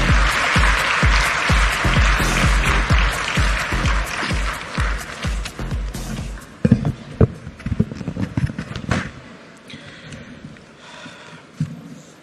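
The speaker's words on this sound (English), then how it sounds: "can we keep that round of applause going one more time" An audience at a fintech festival gathering claps in a sustained round of applause, dense and fairly loud at first, then thinning into scattered claps.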